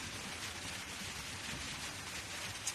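Steady rain falling outdoors, a dense, even hiss that carries on throughout with no voices.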